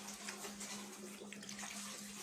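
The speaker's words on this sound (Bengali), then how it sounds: "জামাটা আমি একটু ধুয়ে ফেলবো এখন।" Running water splashing steadily as a dyed shirt is washed by hand, a continuous close wash of water with a faint low hum underneath.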